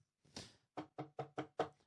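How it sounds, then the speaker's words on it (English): Knocking at a door: one soft thump, then five quick, crisp raps in an even rhythm, close and fairly quiet, with no talking. "Little knock at the door."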